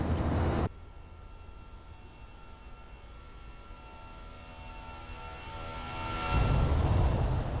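An Airbus A321 with IAE engines in X-Plane 11 passes by, a steady jet whine and rumble that swells louder as it approaches, with no talking.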